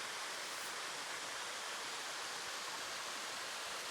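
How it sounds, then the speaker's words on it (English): Small waterfall spilling down a cliff face on a hiking trail, a steady broadband rush of falling water that holds constant throughout, fairly soft and unbroken with no voices. "The little waterfall coming down the other side there."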